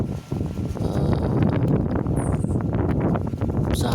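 Strong wind blows in front of the lava dome crater of Merapi volcano, a loud, continuous roaring rumble with gusty buffeting against the microphone throughout.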